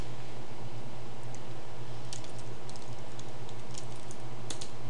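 Light, quick keystrokes on a computer keyboard while code is typed, scattered irregular clicks over a steady low background hum, with short clusters of taps near the end and no talking.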